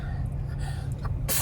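A short sneeze bursts out at the end, after a brief breathy intake over a low steady hum.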